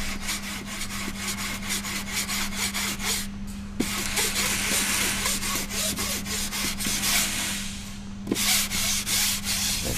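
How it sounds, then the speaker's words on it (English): Steady back-and-forth sanding of a repair patch on a rotor blade face with a hand sanding block, continuous rasping strokes close up under a constant background hum, with brief pauses around the fourth and eighth seconds. "we'll get our sanding block, sand it down even with the rest of the face."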